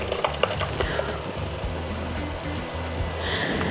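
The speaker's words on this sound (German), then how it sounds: "damit die Spätzle nachher nicht zusammenkleben, werden sie mit kaltem Wasser kurz abgeschreckt" Cooked Swabian Spätzle rinsed under cold running water in a kitchen, a steady splashing rush with small clinks near the start, continuous and moderately loud.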